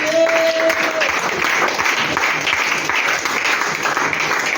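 A church congregation claps and cheers in praise, a loud continuous wash of applause with crowd voices mixed in and a brief tonal sound at the start.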